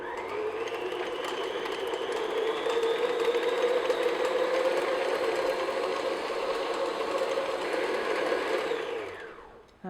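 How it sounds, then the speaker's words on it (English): An electric mixer beats butter until creamy for oatmeal cookie dough, giving a steady, loud whirring drone that holds for nearly ten seconds before winding down at the end, with no talking. "just beat the butter just until it gets nice and creamy and smooth"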